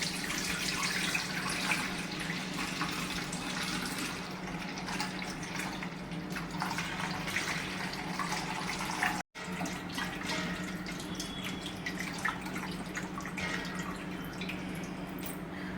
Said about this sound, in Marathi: मी ही चाळणी घेते आणि ह्या चाळणीने हा चीक परत गाळून घेते